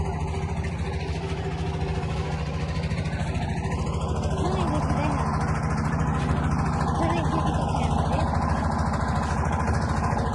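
Boat engine running on a river, a steady, loud droning hum that continues throughout, with people's voices heard faintly over it.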